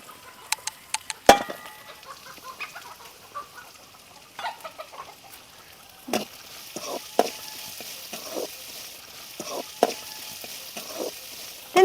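Ginger, garlic and chopped green chilies fry in oil in a pan for elephant yam pickle, giving a soft sizzle with scattered sharp clicks and scraping stirs, no talking.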